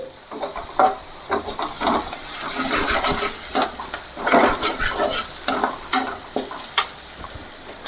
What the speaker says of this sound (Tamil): இதை அப்படியே வதங்கிட்டு எல்லாமே நல்லா வதங்கிட்டு